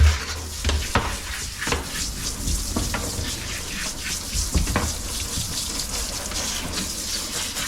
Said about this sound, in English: we need to rinse everything pretty good